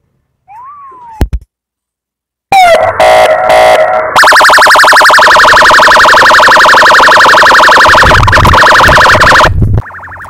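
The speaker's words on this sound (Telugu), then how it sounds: "ఇక్కడ అలారం రావడం జరుగుతుంది" An Android anti-theft phone app sounds its alarm after a wrong password is entered: a brief whooping tone, a pause, then a loud, continuous electronic siren-like wail that runs for about seven seconds and cuts off abruptly.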